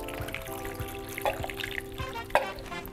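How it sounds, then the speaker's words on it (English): Korean BBQ marinade is poured into a Ziploc bag of flanken-style short ribs, making quiet liquid splashes and drips with a couple of sharper sloshes, close by and fairly soft. "get that marinade that we just made. Give it a nice mix before you pour it in there and go ahead and just dump it in."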